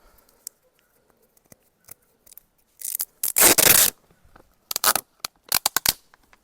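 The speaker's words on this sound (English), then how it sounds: "we're going to run a piece of tape around here to make this nice and tight" Packing tape pulled and wrapped around a bass boat console being relocated, with sharp bursts of ripping and sticking separated by quiet gaps and small handling clicks, close and alone.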